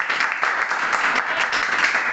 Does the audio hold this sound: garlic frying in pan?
no